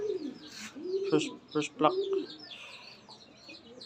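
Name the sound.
racing pigeons cooing at the loft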